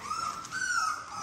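Newborn puppies whimper and yip in one continuous high, thin whine that rises and falls, close and fairly loud, with no talking.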